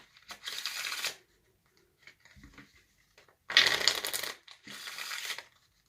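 Three bursts of rapid riffling, like cards being shuffled, separated by short quiet pauses with a few soft taps.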